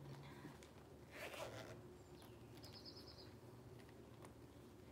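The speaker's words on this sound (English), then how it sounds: "so it's got a zipper pocket on the back." A zipper runs on the back pocket of a purse, giving a brief, faint rasping pull that sits among soft room noise and a few distant bird calls.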